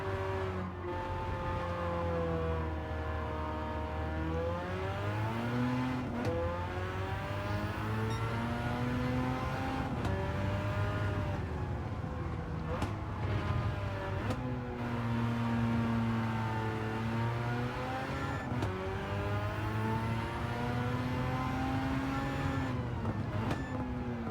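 A rotary-swapped Suzuki Cappuccino in Gran Turismo, its engine droning and revving steadily under partial throttle, pitch rising and dropping repeatedly with gear changes and corners, loud and continuous throughout.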